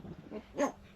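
A child imitates a dog barking, giving one short, bright woof-like yelp after some soft murmuring.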